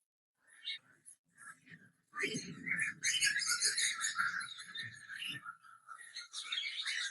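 Cockatiels chirp and chatter in bursts, building into a busy flurry of tweets, with a soft voice murmuring at times.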